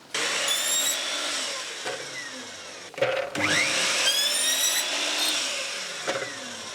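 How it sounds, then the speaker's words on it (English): A mitre saw cuts a second piece of coving, with a loud motor whine, a brief break, then another cut and winding down, all close with no talking. "And I'll cut the second piece now."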